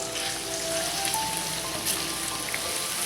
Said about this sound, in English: Butter, oil, and garlic, yep. And just let it saute for a good like 5 minutes